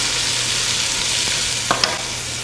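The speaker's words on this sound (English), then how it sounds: "Give that a stir." Food is stirred in a pan over a steady, close sizzle, and a couple of sharp scrapes of the utensil come near the end.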